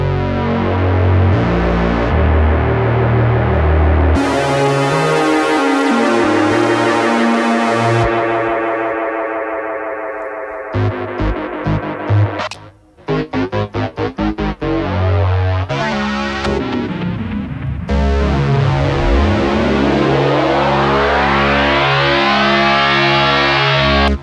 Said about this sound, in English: this is without anything. It's typical synth.